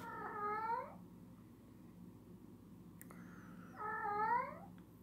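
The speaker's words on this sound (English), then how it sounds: "Would you be quiet, cat?" A cat lets out two drawn-out, wavering meows a few seconds apart, fairly close and moderately loud over a quiet indoor background.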